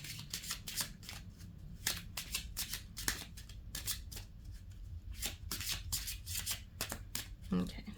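A deck of reading cards is shuffled repeatedly by hand, with quick soft riffling bursts in an irregular rhythm, close and fairly quiet, while a voice talks softly underneath.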